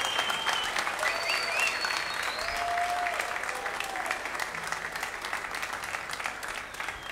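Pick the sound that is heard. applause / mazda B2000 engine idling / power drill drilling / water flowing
applause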